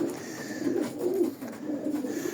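Racing pigeons coo softly and close by, with three low, rolling coos in a gentle rhythm.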